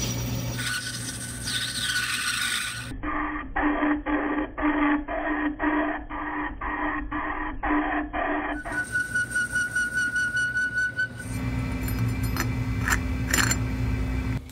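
A metal lathe turns down and bores a part for an industrial steampunk floor lamp, giving a steady machine whine with a rhythmic pulsing cutting squeal in the middle and a rasping tone toward the end, loud and close with no talk.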